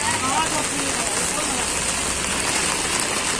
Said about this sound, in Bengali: দেখুন কি বৃষ্টি